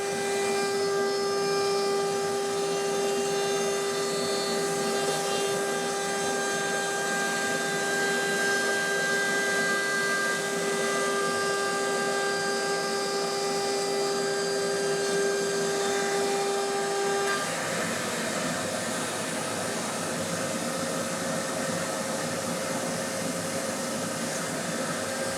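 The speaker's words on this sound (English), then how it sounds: "it's always fun just to see the router bit plowing through the wood, making all these huge wood chips" A Genmitsu 4030 CNC router bit ploughs through wood while carving a candy dish, a steady, droning motor whine with grinding cutting noise that holds for the whole stretch and shifts in pitch near the end.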